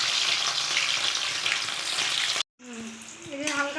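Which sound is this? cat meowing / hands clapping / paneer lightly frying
paneer lightly frying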